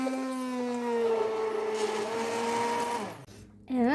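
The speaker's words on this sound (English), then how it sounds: "And bananas into strawberries, and going to mush it all together with my submersive blender." An immersion blender whirs steadily as it mashes bananas and strawberries into a purée for fruit leather, a sustained motor hum with a shifting pitch that cuts off near the end before restarting briefly.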